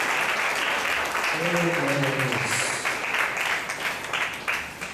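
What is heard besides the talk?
church congregation applauding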